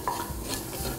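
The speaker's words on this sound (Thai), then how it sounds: "พอใส่ตัวแป้งแล้วนะครับผัดเล็กน้อยพอให้แป้งสุก" All-purpose flour being stirred briefly in a pan to cook it for a tuna white sauce, giving a soft scraping stir with a light sizzle, close and steady with no voices.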